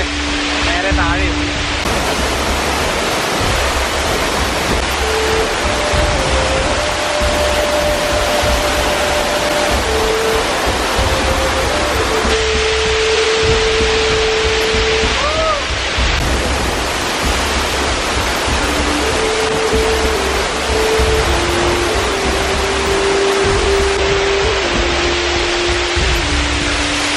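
The Elephant Killer Waterfalls, a forest waterfall, give a loud, unbroken roar heard close, with sustained melodic tones running over the rushing water throughout.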